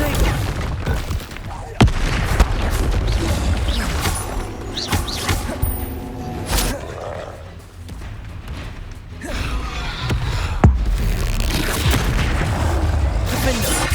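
Confringo and Bombarda spell explosions in Hogwarts Legacy hit as sharp booming blasts and crashes, one at a time amid rumbling combat, with a voice talking over them.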